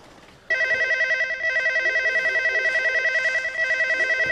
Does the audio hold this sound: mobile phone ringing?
yes